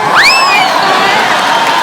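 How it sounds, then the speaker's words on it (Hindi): A television comedy show's studio audience roars with cheering and whoops, a loud, dense crowd swell that rises quickly and holds steady for about two seconds. "जोरदार तालियां होनी चाहिए जरा।"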